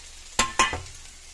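Brief sharp clatters of a utensil stirring and scraping eggs and masala in a pan, three quick bursts over a faint frying background, no voices.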